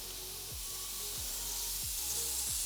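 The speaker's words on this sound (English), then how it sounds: "turn the compressor on, and we just do a bit of spraying" Compressor-driven airbrush spraying for model railway track weathering in a garage layout, a steady broadband hiss running throughout with a few brief low thumps from the compressor cycling underneath.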